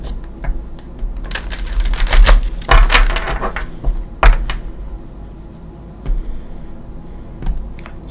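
A deck of tarot cards is shuffled by hand and then cut, giving bursts of crisp riffling clicks and taps in irregular clusters, close and fairly loud, with quieter pauses and a few soft knocks between.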